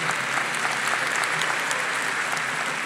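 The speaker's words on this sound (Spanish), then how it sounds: "Aplausos para el Zafrada también." A large crowd at a live comedy event in Gran Arena Monticello bursts into steady applause, thick overlapping clapping that holds an even, loud level for a few seconds.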